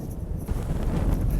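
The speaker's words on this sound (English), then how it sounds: "Windy!" Strong wind on the Appalachian Trail buffets the microphone with a continuous low roaring rumble, close and steady throughout.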